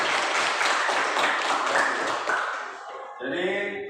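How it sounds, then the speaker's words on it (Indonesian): Classroom applause from a group of students, dense clapping that carries for about three seconds and then thins out as a voice comes in near the end. "Oke, berikan aplaus."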